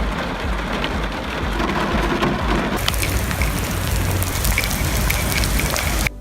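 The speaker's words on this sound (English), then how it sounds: "You know how difficult it is for rain to show up on camera normally?" Rain pours steadily onto an outdoor display of Power Rangers toys and cardboard, a dense, loud patter with hard drops ticking on surfaces. The downpour grows heavier partway through and continues without voices.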